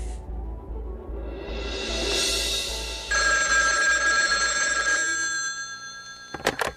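A telephone bell rings loudly and insistently at night, its bright metallic trill sustained over several seconds before cutting off, followed by a couple of sharp clicks.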